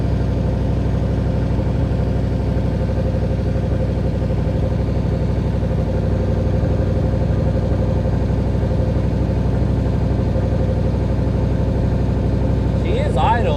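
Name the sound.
third-gen Chevrolet Camaro engine idling high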